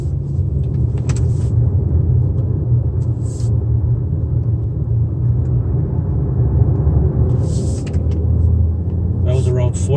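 A 2019 Mazda CX-5 with a 2.5L turbo engine cruises through a roundabout at moderate speed, a steady low engine and road rumble running throughout beneath a person talking.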